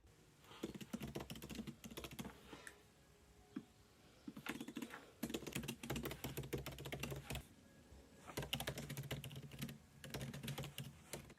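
Bursts of fast typing on a computer keyboard while writing a first draft of a story, close and clear, broken by short pauses between runs of keystrokes.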